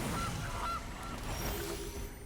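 A loud, close goose honk marks the Gilded Goose card in Magic: the Gathering, a couple of quick nasal honks over a dense background.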